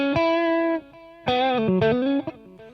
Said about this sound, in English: what I would always prefer is the tape delay sound.